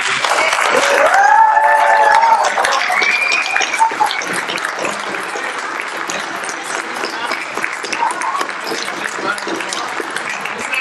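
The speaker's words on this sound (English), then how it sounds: "We want to conclude this with a big round of applause to our 2 candidates." Steady applause from a crowd at the end of a mayoral debate fills the whole stretch, loudest at first and then settling into continuous clapping, with some cheering.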